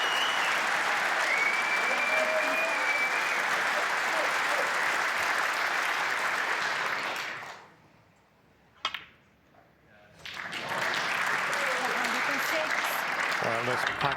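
A packed Crucible crowd at a snooker match applauds a century break, loud sustained clapping that fades out briefly midway, then swells back up and carries on to the end.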